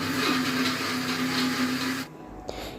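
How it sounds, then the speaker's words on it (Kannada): A kitchen mixer grinder whirs steadily with a loud motor whine while grinding jaggery and cardamom batter in its jar, then cuts off after about two seconds, leaving a faint hum and a small clink. "ಇದಿಷ್ಟನ್ನು ಹಾಕ್ಕೊಂಡು ನುಣ್ಣಗೆ ರುಬ್ಕೋಬೇಕು"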